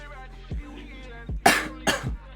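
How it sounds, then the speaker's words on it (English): A few short, harsh coughs in quick succession, close to the microphone, over a low steady background hum. "Excuse my coughing once again. I've been coughing lately."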